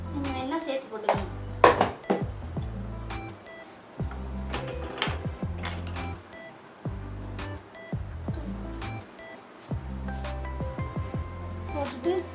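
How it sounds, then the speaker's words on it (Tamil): A spoon scrapes and clatters rhythmically in a pan while kurma masala with chilli powder is stirred, with repeated metallic knocks and thick squelching, close and fairly loud, and some background voice. "போட்டுட்டு நல்லா கிண்டி விடுங்க."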